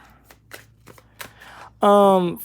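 Soft, irregular taps and riffles of tarot cards being shuffled, ending as a voice begins speaking.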